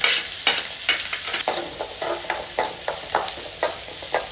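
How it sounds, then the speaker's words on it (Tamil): Onion, green chilli and curry leaves fry in oil with a constant bright sizzle, punctuated by rhythmic scraping strokes of a ladle stirring the pan roughly twice a second, close and loud with no talk. "இப்போது வெங்காயத்தை சேர்த்துக்கலாம். வெங்காயம், பச்சை மிளகாய், கருவேப்பிலை."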